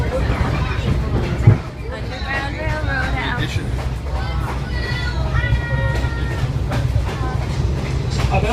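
A passenger train rolls along past farmland near Lahaska, Pennsylvania, giving a steady low rumble with rhythmic clacks. A nearby voice talks over the noise throughout.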